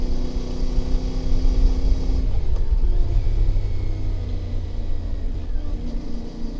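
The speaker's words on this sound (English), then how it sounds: "Give it a little bit of gas along here. Six down to 5th gear." A motorcycle on country roads gives a steady, loud engine drone with a brief break in pitch as it changes gear partway through, then settles back into a continuous rumble.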